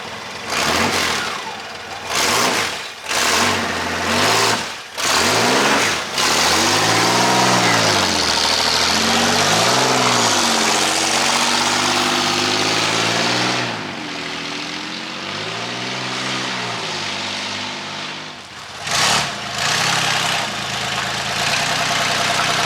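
A 1963 Buick Special engine, a car just revived with no working reverse, drives down the road and back, a loud steady motor drone rising and falling in pitch with several bursts and pauses, mostly alone.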